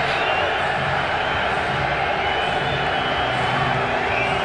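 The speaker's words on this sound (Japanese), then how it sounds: "中澤にというよりも3位の日本に対するブーイングでしょうか。" A stadium crowd at a Japan vs South Korea football match boos Japan's team in a loud, continuous roar that holds steady throughout.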